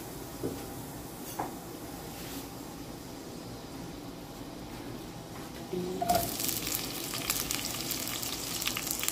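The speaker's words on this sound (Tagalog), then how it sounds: "Igisa ang onion, garlic, at kamatis." Onion, garlic and tomato sauté in hot cooking oil, a steady close sizzle that jumps louder partway through as more goes into the pan, then crackles on continuously with light stirring scrapes.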